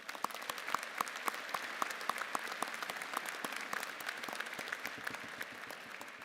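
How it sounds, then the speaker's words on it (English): Audience at a university commencement ceremony clapping for staff volunteers, sustained applause with distinct individual claps popping out of the crowd wash, moderately distant and fairly soft, no speech over it. "Please join us in a round of applause to thank all of our staff volunteers."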